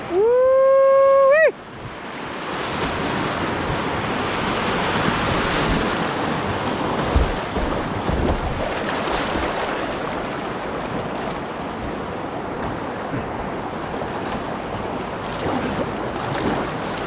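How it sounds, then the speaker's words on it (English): Whitewater rapids at the bottom of Copeland Rapids, with faster flow and bigger drops, make a loud continuous rushing roar close by that follows a brief rising tonal sound at the start, with no voices. "there are a couple spots where the flow is a little faster and the drops are bigger, like this one here at the bottom of Copeland Rapids"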